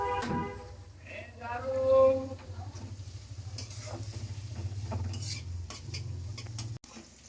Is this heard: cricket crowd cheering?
no